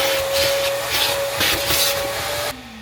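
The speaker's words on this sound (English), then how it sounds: "Am I vacuuming this or not?" A vacuum cleaner runs steadily and loudly inside a Jeep, a constant whine with rising and falling suction surges as the nozzle moves, then the tone drops sharply near the end as it is shut off.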